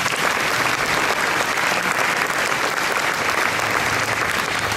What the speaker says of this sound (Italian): Un applauso, ok.